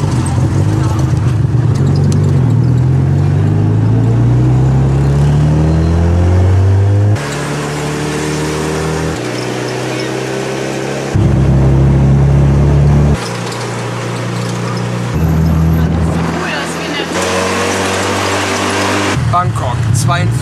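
A tuk-tuk rides through hot Bangkok streets, its small engine loud and close, revving up repeatedly in rising, gear-like sweeps over a steady rumble for the whole stretch.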